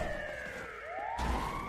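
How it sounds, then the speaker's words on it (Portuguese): Ambulance siren in the Brazuca City RP video game, a steady wailing tone that sweeps up and down, fairly close and continuous throughout with faint low engine rumble beneath. "Ó, a ambulância ali,"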